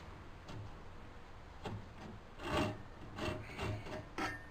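A flush-cut pull saw cuts wood during Morris chair building, giving faint, rhythmic rasping strokes, about a half-dozen pulls in a quiet room.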